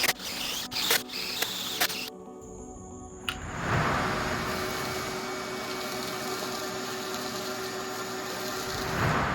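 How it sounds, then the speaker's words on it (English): A drill whirs steadily through wood, boring holes for tea light candle holders, for several seconds after some clicks and clatter, a continuous mid-pitched grinding hum. "Now it's time to drill the holes for the candles."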